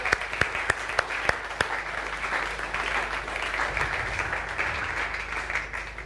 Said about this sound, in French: ça mérite vraiment une ovation pour notre Seigneur Jésus-Christ